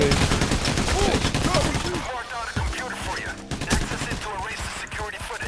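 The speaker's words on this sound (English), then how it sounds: "Shoot him in the face. Directly in the face." Loud, dense gunfire in the heist shooter game Payday The Heist, with rapid automatic bursts and overlapping shots running throughout along with other game sounds.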